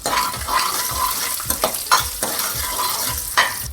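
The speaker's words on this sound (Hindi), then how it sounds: "एक बार इनको अच्छे से भून लेंगे।" Peanuts, chana dal, garlic, ginger and green and red chillies roast in a pan with steady sizzling and frying, while a utensil stirs and scrapes in repeated strokes, close and alone.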